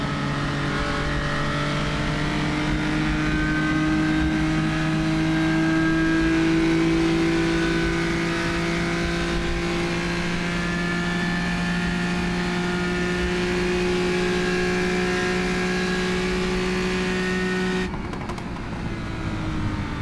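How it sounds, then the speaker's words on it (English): A historic race car engine revving hard at Spa-Francorchamps during a historic road racing championship round, a loud sustained harmonic drone heard from onboard that holds steady before a sudden shift near the end. "Rev it out here down to Hollowell."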